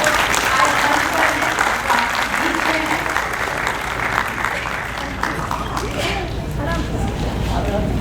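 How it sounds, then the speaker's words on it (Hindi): An audience claps for women in a loud, sustained wash of applause, dense and even throughout, with voices heard among the crowd. "तो तालियां बजा दीजिए महिलाओं के लिए।"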